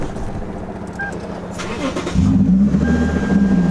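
Lexus IS250/350 engine cranking and catching near the two-second mark, then settling into a steady close idle rumble, with brief clicks and shuffling beforehand.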